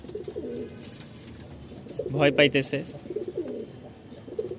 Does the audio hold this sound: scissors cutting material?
no